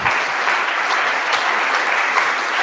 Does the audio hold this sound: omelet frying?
no